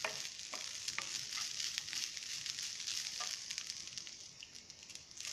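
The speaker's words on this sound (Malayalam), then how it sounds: "ഒരു മിനിറ്റോ രണ്ട് മിനിറ്റോ ഒന്നിങ്ങനെ ഒന്ന് വഴറ്റി കൊടുത്താൽ മതി" Continuous crackling sizzle of grated coconut sautéing in a pan for a chutney, with faint scraping strokes as it is stirred, steady and close.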